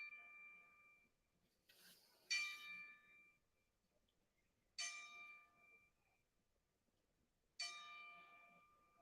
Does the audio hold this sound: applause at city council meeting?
no